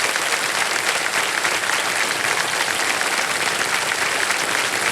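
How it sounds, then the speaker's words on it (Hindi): Studio audience applause on the KBC Season 17 game show, a dense, even wash of many hands clapping steadily and loudly throughout, with no talk. "ताली बजती रहे इनके लिए"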